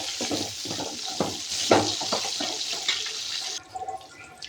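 Cut drumstick pieces are stirred and spread through a curry in a pan, giving a steady, close wet scraping and sizzling with rhythmic spoon strokes that thin out near the end.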